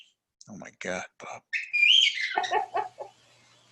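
A pet bird in the room gives a shrill whistling call with a rising and falling tone, close by, in between short bursts of a person talking.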